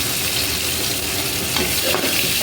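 Curry leaves dropped into hot oil in a pan while making a catla fish curry, bursting into a loud, dense sizzle and spatter that holds steady for a couple of seconds.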